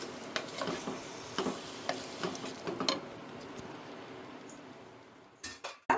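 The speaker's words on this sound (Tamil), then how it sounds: "இப்போ நல்லா வதக்கி விடுங்க அது வெள்ளையாக ஆகிற அளவுக்கு ஒரு ரெண்டு மூணு நிமிஷம் நல்லா வதக்கலாம்" Mutton for Chettinad mutton kuzhambu sautéing in a pan, a dense close sizzle with repeated light clinks and scrapes of stirring that fade toward the end before a few sharper knocks of the utensil.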